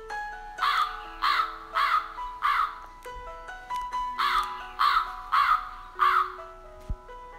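A crow caws in two series of harsh, evenly spaced calls, four then four, clear and fairly close, with a steady tonal drone beneath.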